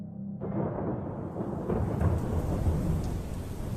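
Steady heavy rain pours down with a low rumbling wash, starting abruptly and continuing as a dense, even roar.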